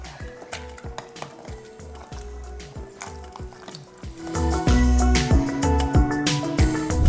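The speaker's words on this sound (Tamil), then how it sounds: "இப்போ அதை வச்சு நல்லா மசிச்சிடலாம்." Jaggery mashed into sweet pongal in a metal pot, steady rhythmic scraping and clanking of a spoon against the vessel, growing louder and busier toward the end.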